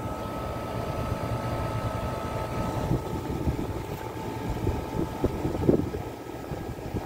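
A window air conditioner with a blower reel runs with a steady, loud motor and fan drone and a constant tonal hum, with a few faint knocks near the end.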